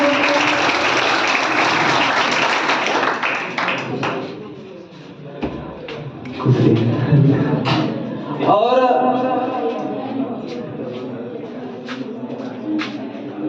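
An audience claps loudly for an award winner coming onto the stage at a ceremony. The dense applause fades after about five seconds, then voices talk over scattered, thinning claps and taps.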